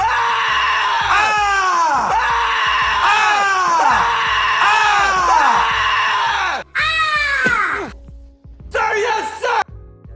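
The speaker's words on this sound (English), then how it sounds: "the sergeant told him to scream as loud as he could" A man screams loudly again and again in long, strained yells, with a couple of shorter cries near the end.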